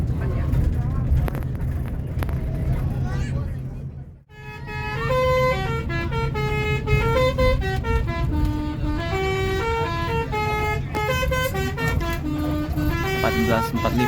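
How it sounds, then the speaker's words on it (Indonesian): Bus telolet horn played by the driver on a toll road, a long run of loud, musical multi-tone toots over steady engine rumble, with a brief dip partway through. "ada telolet sebagai bentuk hiburan yang diberikan oleh drivernya"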